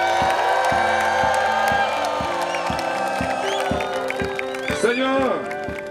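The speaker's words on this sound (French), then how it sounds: "Est-ce qu'on peut pousser les cris de joie?" Crowd at a Christian crusade in Ebolowa, Cameroon, shouting and whooping with joy, a dense sustained roar of many voices with cheers rising over a steady low rhythmic beat of music.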